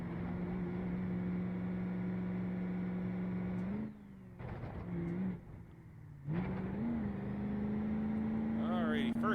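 Gavril Roamer LXT35 diesel car with roll cage in BeamNG.Drive revving and accelerating toward a jump, a steady loud engine drone that drops briefly mid-run as gears change, then climbs again, with someone talking over it.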